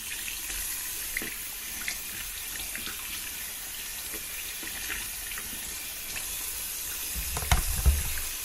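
Hot water runs steadily from a tap while an oil stone is being cleaned, a soft continuous hiss and splash with a few louder splashes near the end.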